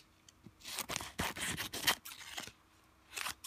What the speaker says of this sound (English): I like to go ahead and cut off all of the excess transfer tape